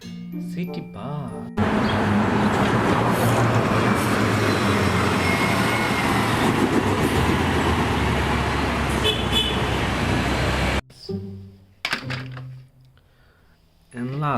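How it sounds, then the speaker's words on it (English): A city bus roars loudly and steadily in traffic for several seconds, framed by short bits of quieter traffic and a horn toot. "City bus."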